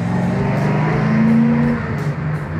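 A deep, rumbling Holden 308 V8 car engine runs steadily while driving, its tone rising briefly as it pulls, loud and close with no voices.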